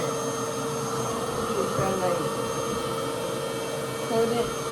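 A $400 reverse hair dryer runs on 4C hair with a steady, even whooshing motor drone that sounds much like a vacuum cleaner, close and continuous throughout.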